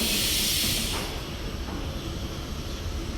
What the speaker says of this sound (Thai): รถไฟมาจากซูริกนะคะ จะตรงไปบรูคค่ะ